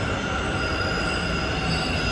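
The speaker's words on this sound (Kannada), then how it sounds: "ಇನ್ನೊಂದು ಯಾವುದೋ ಟ್ರೈನ್ ಬಂತು." Steady rumbling roar of a train arriving at a station, with a continuous metallic hum and faint wheel squeal, loud and close throughout.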